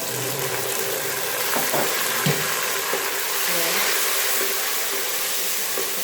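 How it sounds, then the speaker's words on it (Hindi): Tomatoes added to browned onions in a frying pan while cooking pumpkin and chana dal, giving a steady broadband sizzle and hiss throughout with a few faint clinks, close and moderately loud, no talking. "प्याज हमारा ब्राउन हो गया है। अब हम इसमें टमाटर डालेंगे"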